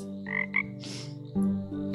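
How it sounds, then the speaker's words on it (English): Frog croaks from the Kamaeru frog farming game trailer, a few short bright calls over a steady soft musical backdrop, close and clear with no talking. "Frog."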